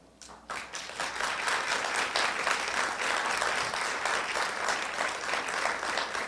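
A church congregation breaks into applause, rising quickly from a quiet start into sustained, full clapping from many people that stays steady through the remaining seconds.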